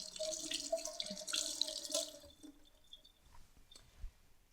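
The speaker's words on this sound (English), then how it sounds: "I'm just going to rinse my hands." Running tap water splashing over hands as they are rinsed at a kitchen sink while preparing a warm leek, snap pea and burrata salad; a steady close rush of water that thins out toward the end, with a few drips.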